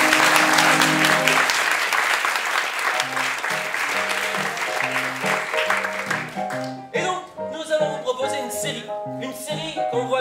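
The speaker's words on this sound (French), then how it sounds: "vous pouvez vous applaudir" An improv show audience at a Paris improvisation festival applauds, loud dense clapping for several seconds that thins out as music plays and a voice speaks.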